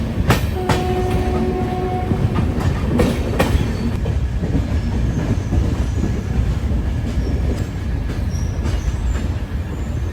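A Rajdhani Express train runs from Howrah to New Delhi, a loud continuous rumble with repeated clickety-clack of wheels over rail joints and brief squeals, heard from inside the carriage.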